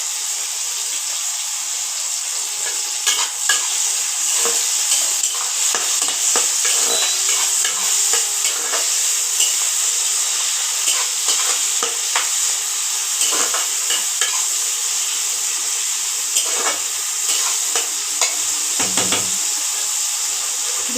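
Onions fry in a pan with a steady bright sizzle throughout, broken by repeated scraping stirs from a spoon; close and continuous with no talking.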